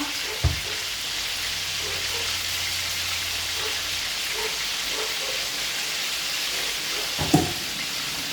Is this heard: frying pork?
yes